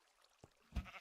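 A sheep in the video game Minecraft lets out a single short, fairly loud bleat near the end, after a brief quieter sound and over a low background.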